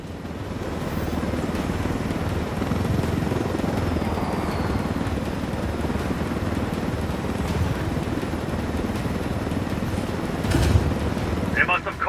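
Helicopter in Ghost Recon Wildlands thrumming steadily and loudly throughout, a continuous rotor and engine roar with wind noise and some voices mixed in.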